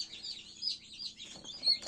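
Newly hatched Marans chicks peep in short, high chirps that come and go across about two seconds. The calls are close but fairly soft, with no voices.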